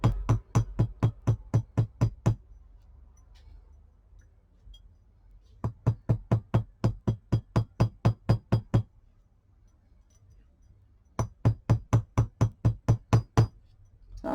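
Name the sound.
hammering paper bead earrings made from recycled Christmas cards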